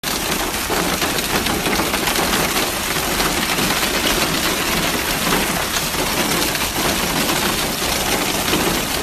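Heavy rain pours steadily during a Saudi Arabian downpour that floods the area, a dense constant roar of water loud and unbroken throughout, with no voices.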